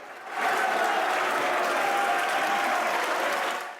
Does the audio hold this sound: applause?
yes